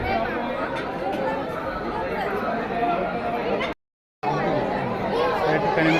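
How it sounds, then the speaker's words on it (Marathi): Dense, steady chatter from a large crowd of devotees at the hilltop Jejuri Khandoba temple in Maharashtra, a continuous mass of overlapping voices that cuts out briefly and then resumes. "गर्दी"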